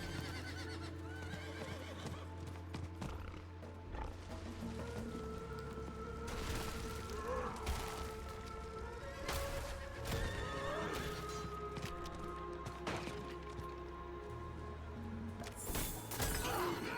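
A horse in a video game neighs several times over galloping hoofbeats, with crashing and shattering effects breaking in between the calls.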